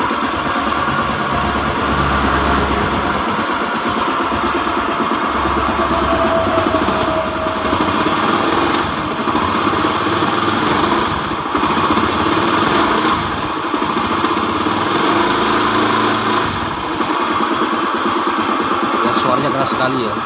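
A motorcycle engine with a knock from inside the crankcase runs loud and close as the throttle is revved, a steady rough mechanical drone with recurring surges, with a voice talking over it.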